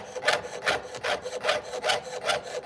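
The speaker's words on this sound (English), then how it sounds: "This is my normal sawing" A hand saw making steady back-and-forth strokes, about six regular rasping pulses in quick rhythm, close and fairly loud with no talk.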